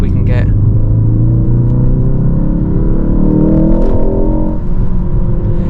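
A Ford Focus engine revs while rev matching in second gear, a loud close drone whose tone rises and then falls back, with a voice briefly audible over it.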